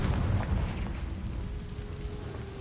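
A Confringo fire spell blast in Hogwarts Legacy sounds as a deep, rumbling explosive burst at the start, then fades into a low sustained rumble with a faint steady tone.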